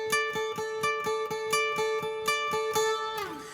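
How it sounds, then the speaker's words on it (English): A bright plucked guitar part with quick repeated notes in a steady rhythm, sounding like a mandolin, ending on a sustained note that bends downward. "It's almost like a mandolin type part."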